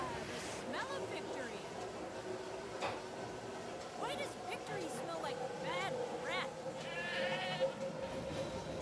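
Mountain goats bleat in a Total Drama Revenge of the Island cartoon episode. Several wavering bleats sound over a busy soundtrack, mixed with overlapping voices and other cartoon noise.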